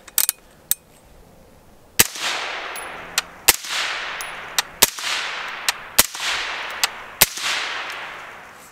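Suppressed gunshots from a 10.5-inch AR-15 in 5.56 firing 55-grain rounds through a full-size suppressor: sharp loud cracks in a steady string, each trailing off in a ringing outdoor decay, with faint clicks between shots.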